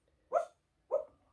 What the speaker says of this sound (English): I always have to save my dog when she woofs in her sleep.